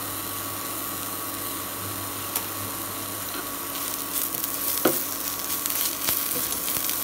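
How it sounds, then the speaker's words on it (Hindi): Okra and potatoes fry with turmeric, red chilli, black pepper and salt over medium heat. The pan gives a steady sizzle with a faint whine, and stirring scrapes grow busier toward the end. No voices are heard. "अब इसे 2 मिनट के लिए मीडियम आंच पर चलाते रहें।"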